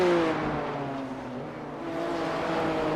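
BMW M2 race cars in a racing video game drone steadily through their engines, a sustained revving note with shifting pitch, moderately loud and with no talk over it.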